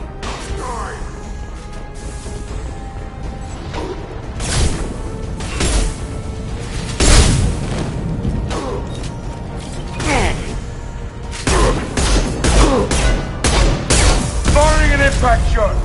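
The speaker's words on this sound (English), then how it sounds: "Firing concussive shot." Concussive shot firing in Mass Effect 2, a Vanguard's biotic blast amid loud game combat, heard as repeated sharp bursts and crashes over a dense, noisy battle mix.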